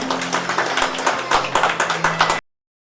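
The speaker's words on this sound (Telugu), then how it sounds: "ఒకసారి కొంచెం అందరూ గట్టిగా క్లాప్స్ కొడదాం" Applause from a gathered audience at a real estate brochure launch for Sri Fortune Homes, a dense crowd of hands clapping steadily and loudly for about two and a half seconds before cutting off abruptly.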